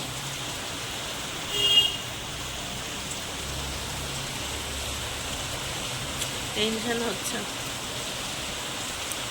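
Rain falls steadily in the background, a soft even hiss that stays faint under brief talking.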